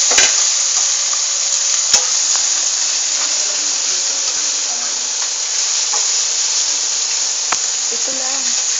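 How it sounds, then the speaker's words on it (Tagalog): Boneless chicken meat for an empanada filling fries in a pan with a loud, constant close-up sizzle, broken now and then by brief clicks from stirring. "Doon po natin ilalagay ang karne. Chicken boneless. Hintay po natin itong maluto."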